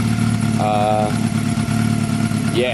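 Exhaust note of a Honda CB250 bobber motorcycle idling nearby, a steady low putter with brief higher tones, while a voice speaks briefly over it.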